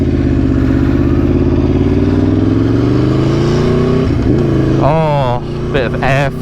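Aprilia Tuono V4 1100 Factory motorcycle pulling away, its engine droning loud and close with rising revs and gear changes, then wind buffeting and a voice speaking near the end.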